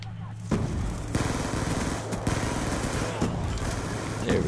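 Gunfire in a first-person shooter video game comes in dense, loud rapid bursts with brief gaps, like automatic weapon fire, and a voice is faintly present underneath.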